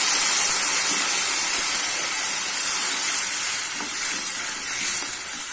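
Loud, steady hissing sizzle of about half a glass of water poured into a hot pan for pumpkin sambar, broadband and continuous with faint bubbling underneath, close up and without talk.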